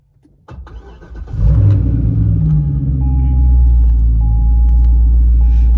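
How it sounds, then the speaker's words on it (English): A C6 Corvette engine cranks and fires up, then settles into a loud, steady, deep rumbling idle close by. "we're gonna go ahead and start it up"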